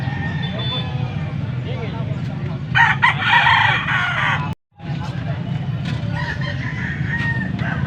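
A young rooster (stag) crows in a crowded Philippine poultry market, one loud drawn-out crow standing out over constant chatter from many people and background bird noise.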